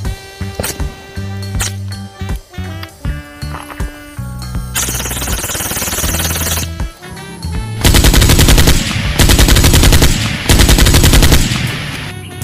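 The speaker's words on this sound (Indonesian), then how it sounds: "senapan serbu MPX" A Nerf MPX toy assault rifle fires in rapid mechanical bursts, loud and close, with rattling full-auto stretches separated by short pauses and some clicking handling noise between.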